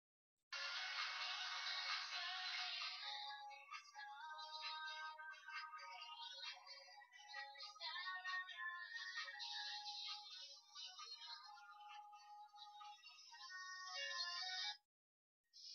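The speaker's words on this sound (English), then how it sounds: "Let's see some of Nokia's tones that are put into this device." Built-in ringtones on a Nokia 5310 phone play one after another as a series of bright electronic melodies, clear and fairly quiet, ending with a brief gap and the start of another tone.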